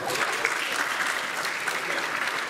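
Steady, dense applause from a charity Christmas concert audience, a continuous wash of many hands clapping at an even level throughout, with no voices standing out.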